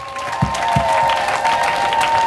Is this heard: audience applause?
yes